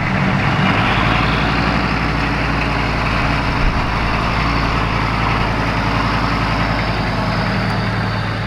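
A 6.5 diesel truck fitted with a simple resonator exhaust idles loudly and steadily, its deep rumbling exhaust throbbing with a low, even rhythm throughout.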